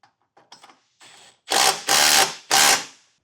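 Metal socket and wrench tightening bolts on running board brackets during a truck install: a few light clicks and taps, then three loud, broad bursts of ratcheting or grinding close by, with no talk.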